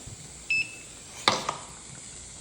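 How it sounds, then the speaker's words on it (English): A Presto 17-quart digital canner gives a short electronic beep, followed a moment later by a brief clatter and a click in an otherwise quiet kitchen. "we are getting the beep saying it's time to put the regulator on"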